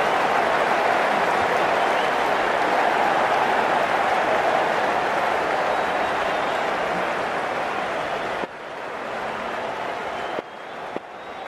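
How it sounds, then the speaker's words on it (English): A stadium crowd applauds in the Cricket 19 video game during an IPL T20 match, a dense, loud sustained roar of clapping that carries on for several seconds before cutting off abruptly near the end. "That's what the crowd have come to see."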